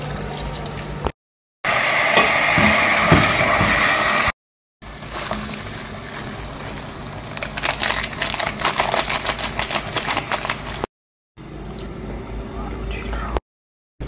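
A knife chops three onions for chicken biryani on a kitchen board, giving rapid clustered taps in bursts with background clatter and gaps where the sound cuts out.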